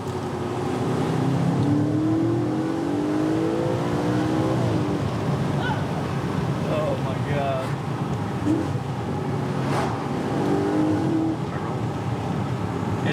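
A 2015 Audi RS5 with a V8 engine accelerates through the gears in dynamic mode, its engine note rising and dropping with shifts, heard from inside the car with someone talking over it.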